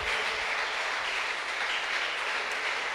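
A church congregation applauds in praise, a dense, steady roar of clapping from many hands that holds evenly throughout with no speech over it.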